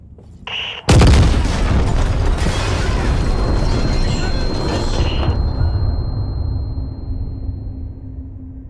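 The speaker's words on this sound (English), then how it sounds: "Oh shit, there's a bomb." Bomb explosion in the video game Six Days in Fallujah: a brief high tone, then a sudden heavy boom that rumbles loudly for several seconds before slowly fading into a low, lingering hum.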